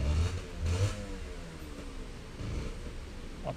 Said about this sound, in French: y a un mec avec une bécane Honda qui est en train de galérer à démarrer